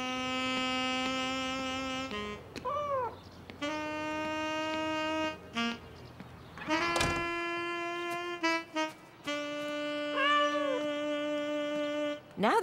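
A cartoon cat meows a few times in the Caillou children's show, with bending tonal cries rising over steady musical tones across the scene.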